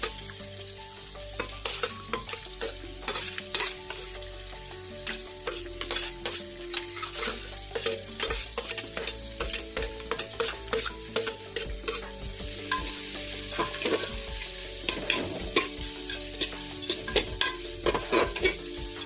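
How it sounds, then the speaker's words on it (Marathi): Capsicum stir-fries in a pan for a pendpala dish, giving a steady sizzle with frequent scraping and clinking spatula strokes in an irregular rhythm, close by with no talk. "जरा एक दोन मिनिट असंच परतून घ्यायचं"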